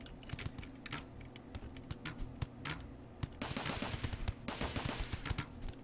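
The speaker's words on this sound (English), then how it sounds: "Our turrets are doing some damage anyways." Automated turrets fire in a RimWorld colony battle, a rapid scatter of sharp gunshot bursts that thickens into dense, overlapping volleys, loud and close with no talking.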